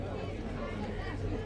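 Crowd of family and guests bustling at a haldi ceremony, steady dense babble of many overlapping voices close by, with people talking throughout and no single voice standing out.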